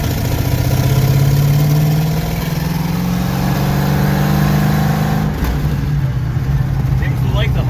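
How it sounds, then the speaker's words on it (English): Junkyard Ford Fox-body car engine running loud and close, a low rough drone that drops in pitch and sputters unevenly at low RPM, with a slight rise near the end. "Seems to like the higher RPMs for some reason. It sputters a lot down low."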